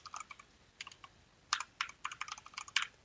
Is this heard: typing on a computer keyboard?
yes